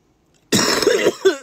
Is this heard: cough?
yes